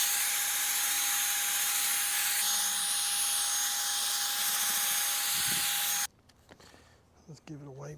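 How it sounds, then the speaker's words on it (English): A part of a 1983 Yamaha XZ550RK Vision motorcycle is polished, a loud, steady whirring hiss from a power polisher that stops abruptly after about six seconds, followed by faint handling noises and brief talk. "I'm gonna try polishing it, see if any more of it comes off."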